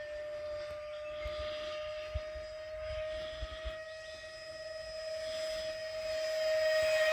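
A model F-104 electric ducted fan jet flying at half power gives a steady, high whine with a faint rushing tone, fairly distant and quiet, swelling slightly toward the end.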